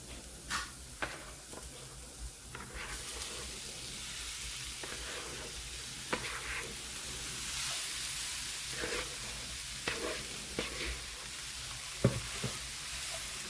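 Potatoes sizzle steadily after being added to fragrant spices in a hot pan, a continuous close hiss with scattered sharp pops and crackles throughout.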